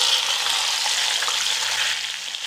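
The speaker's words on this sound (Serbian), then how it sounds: "sada spuštam meso na vrelo ulje" Meat sizzles steadily as it goes into hot oil in a pan, a dense, bright frying crackle heard up close with no speech.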